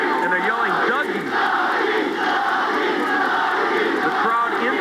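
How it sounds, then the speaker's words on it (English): A boxing arena crowd roars and yells steadily for Doug DeWitt during his bout with Robbie Sims, a dense continuous wall of shouting throughout with a commentator's voice mixed in. "The crowd into it on behalf of Doug DeWitt"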